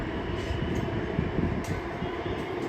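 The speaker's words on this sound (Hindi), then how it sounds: "ये है बेंगलोर में मेट्रो जा रही है।" Bangalore metro train running past, a steady broad rumble and rush of wheels on track that holds at an even level throughout, heard from a distance with no talk.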